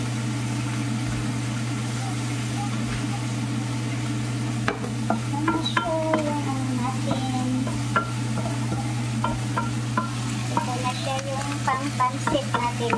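Pancit noodles with liver fry in a pan while being stirred, giving a continuous sizzle with scraping and clicking strokes over a steady low hum, and someone speaks briefly.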